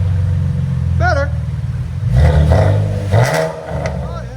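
Deep, throaty cat-back exhaust on a 2014 Chevy Camaro RS 3.6L V6 idling, then revving up loudly and settling back, close to the microphone with a brief voice in between.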